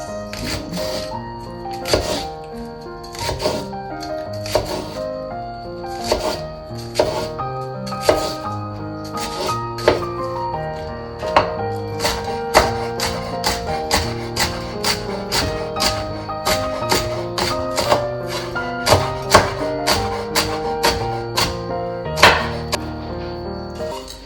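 A knife finely chopping green onion on a board, with quick, sharp taps that come in uneven bursts and speed into a dense run, close and crisp, with no talk over them.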